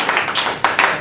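Comedy club audience clapping at a live stand-up show in the Blue Room, with two short uneven bursts of hand claps close by in a brief moment.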